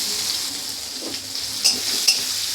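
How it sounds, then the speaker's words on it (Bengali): Onion frying in mustard oil with a bay leaf and panch phoron, a soft steady sizzle broken by two quick metallic taps of a spoon against the pan, close by, no speech. "দিয়ে দেবো একটা তেজপাতা, একটু পাঁচ ফোড়ন, দিয়ে দেবো অল্প একটু পেঁয়াজ"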